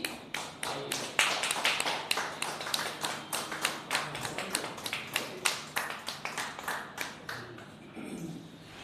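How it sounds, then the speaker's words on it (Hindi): Hand claps at a Hindi-Urdu poetry gathering (kavi sammelan and mushaira), sounding as sharp, fairly regular claps that keep up a quick rhythm and thin out and fade near the end. "जोरदार तालियों के साथ स्वागत कीजिए"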